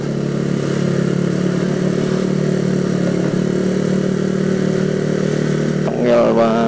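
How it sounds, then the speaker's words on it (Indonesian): A motorcycle fitted with an aftermarket exhaust revving while riding, a loud steady engine drone with strong tonal harmonics that rises into a brief surge of revs near the end. "Jadi teriakan ini motor nih, teriakan knalpot ya"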